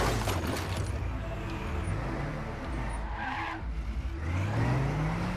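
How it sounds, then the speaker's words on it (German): A car in Trackmania 2 Canyon races along with a loud, continuous engine drone and rising revs, broken by stretches of skidding tire squeal, with no talking. "Oh mein Gott, ich hab Fahrzeugsound."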